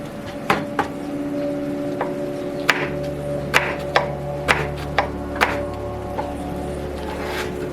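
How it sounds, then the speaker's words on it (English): A knife chops potatoes into steak fries on a cutting board, making about a dozen sharp, separate thwacks at an uneven pace over a low background hum. "I get the potatoes cut up for the french fries"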